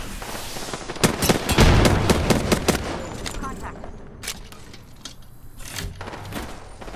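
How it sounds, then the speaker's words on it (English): Gunfire in the video game Apex Legends: rapid bursts of close automatic shots and scattered single cracks, loud at first and then thinning out, with voices talking over the fight. "he's getting shot from another team"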